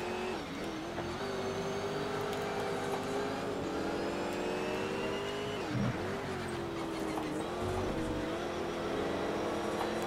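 An Aston Martin accelerates hard in the racing game Shift 2 Unleashed, a loud, continuous engine roar rising in pitch through the gears, with brief dips at shifts around the middle and later part.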